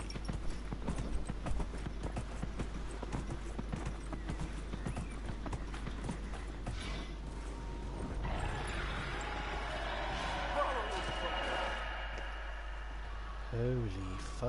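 Horse hooves clip-clop at a steady trot in the video game Dragon Age Inquisition, rhythmic and close, with game effects layered in and a brief whinny-like tone near the end.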